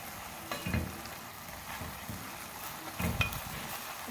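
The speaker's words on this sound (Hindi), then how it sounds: "अच्छी तरह से मिक्स करेंगे।" Cooked mutton mince keema with cabbage is stirred in a pan over low flame, a soft continuous sizzle with intermittent scraping strokes of the spoon, moderately faint and without speech.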